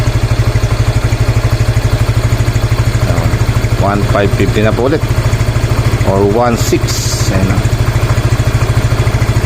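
A Yamaha Mio i 125 scooter engine idles close by with a steady, throbbing chug, its revs rising, while someone talks over it.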